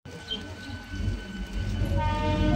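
A passing train rumbles and clatters, its horn sounding as steady tones while the rolling noise builds louder toward the end, heard from close by.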